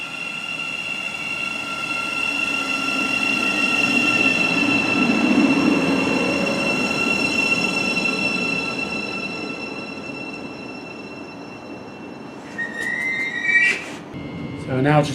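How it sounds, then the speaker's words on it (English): A London train rumbles steadily and gradually slows into a station, wheels squealing faintly, then brakes hiss and clatter as it comes to a stop. "So we're now just pulling into Cruise Hill Station"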